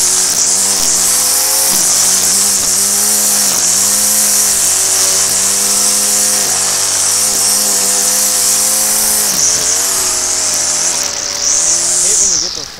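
A Stihl FS46 string trimmer engine runs loudly and steadily near the microphone, with a high buzzing whine. It rises and falls a little in pitch as the throttle changes, with a brief dip near the end.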